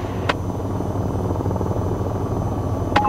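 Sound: AH-94 helicopter engine idling, video game VTOL VR

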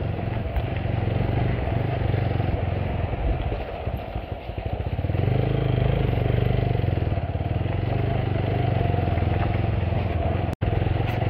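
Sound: motorcycle riding with clutch problem

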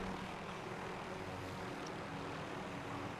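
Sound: helicopter flying in the video game Call of Duty Warzone

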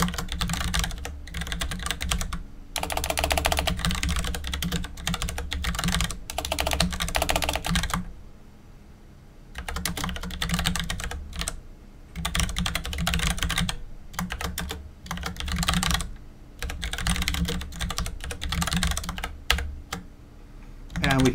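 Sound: typing Emacs Lisp code on a computer keyboard

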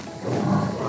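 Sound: jaguar roaring

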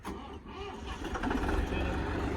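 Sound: farm engine running

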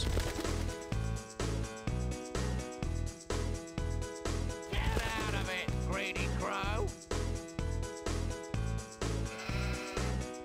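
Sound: sheep bleating in Bob the Builder Wii video game

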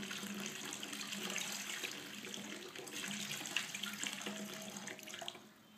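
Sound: water poured into a glass over an egg

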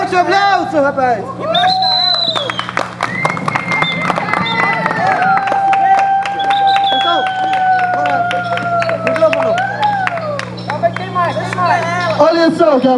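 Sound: audience applauding at a clown show

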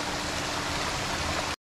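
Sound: waterfall at Tikkar Tal hill station

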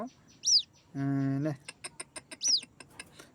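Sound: white-breasted waterhen (dahuk) chick calling

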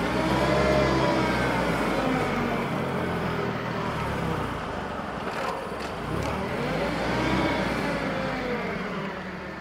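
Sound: Mitsubishi FG30 propane forklift engine while driving

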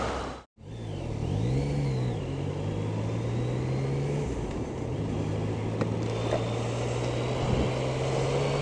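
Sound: Yamaha XSR 900 three-cylinder motorcycle engine

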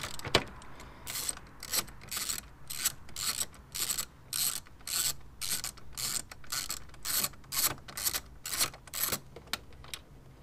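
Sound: undoing bolts on a BMW Mini F56 engine bay

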